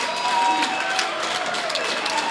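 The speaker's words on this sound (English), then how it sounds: "The crowd is on their feet. They are absolutely loving this." A crowd on its feet cheers and applauds steadily at the Men's 120+ kg World Open Powerlifting Championships 2017, a dense continuous wash of clapping and shouts with no break.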